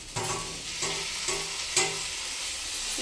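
Four medium tomatoes, chopped, fry in a pan for a bitter gourd fry and are stirred through, giving a steady sizzle broken by three or four distinct scraping strokes of the spoon; no talking.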